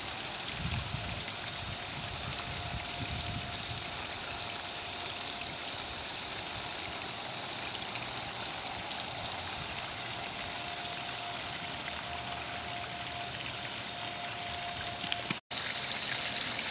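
Water spills steadily from a garden waterfall into a small rock-edged pond on a hot day, a continuous close splashing rush that holds unbroken before a brief dropout near the end.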